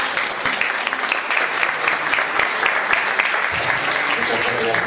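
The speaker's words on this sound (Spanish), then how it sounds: "Para ellos les pido un caluroso aplauso." Sustained applause from an audience at a comic book presentation, dense rapid clapping holding steady and fairly loud throughout.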